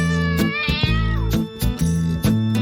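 A cat meows repeatedly in a Halloween children's song. Several loud, close meows rise and fall in pitch, with short pauses between them and no other sound behind them.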